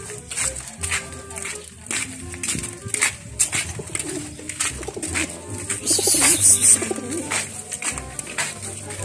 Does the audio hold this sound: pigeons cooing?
yes